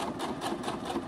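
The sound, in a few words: sewing machine stitching forward and back to finish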